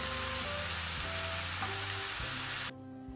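Celery and garlic sizzle in a hot pan while pan-roasting, giving a loud, dense, continuous hiss with tonal background beeps that cuts off sharply near the end.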